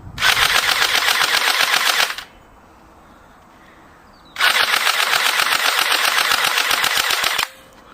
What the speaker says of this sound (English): I'm going to fire off the rest of the magazine now,